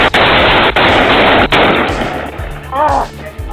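Gunfire from a suspect shooting at Chicago police officers: several sharp, loud reports ring out near the start, then the scene continues with muffled commotion and a brief voice.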